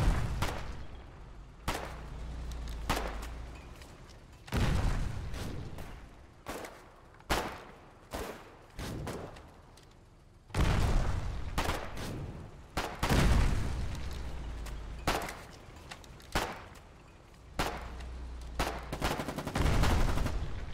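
Sustained machine gun fire in the war game Foxhole, with rapid bursts and heavy booming shots that come in repeated volleys separated by short pauses. The firing sounds loud and close.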